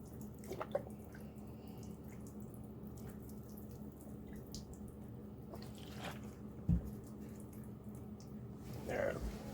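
Tap water runs steadily over a circuit board being rinsed, a continuous close splashing hiss with occasional louder drips and knocks.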